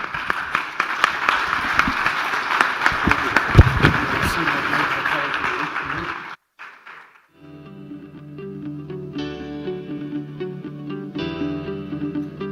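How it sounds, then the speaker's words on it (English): Loud audience applause for a business investment forum panel in Oman fills a hall for about six seconds, then breaks off and gives way to a steady musical passage. "Once again, a big round of applause for Richard Quest and for our panelists"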